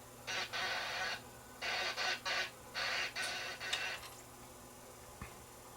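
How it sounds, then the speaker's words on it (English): A Panasonic DVD-RP56 player's disc motor with worn bearings whirs in short, uneven bursts separated by pauses, faint and mechanical, with a small click near the end. "The motor is probably oscillating slightly, the bearings are worn out, and it's not going to read."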